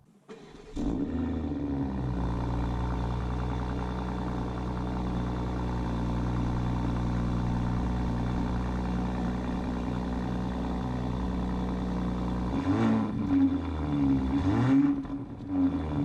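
A BMW X3 M40i performance crossover runs with a steady, humming engine drone and tonal whine on the move, then a couple of brief shifts in pitch near the end, with no talking.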